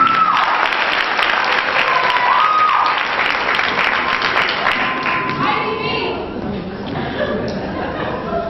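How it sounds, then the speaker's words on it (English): A school talent-show audience in a hall applauds loudly and steadily. Whoops and chatter run through the clapping, and it tapers off toward the end while a voice speaks over it. "Big round of applause for Miss Olivia"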